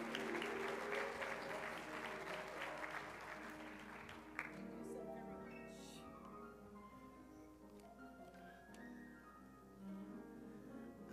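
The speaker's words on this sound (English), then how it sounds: "Would you give her a big round of applause as she comes?" At a town hall meeting in Newark, an audience applauds as a performer comes to the stage. The clapping is moderate for a few seconds, then gives way to a sustained musical tone with a few scattered claps.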